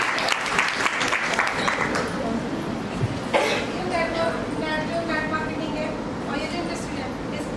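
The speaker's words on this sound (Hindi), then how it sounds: "जोरदार तालियां जी" Applause from the audience at a network marketing training session in Meerut, loud and dense at first, then thinning out as voices and room noise take over.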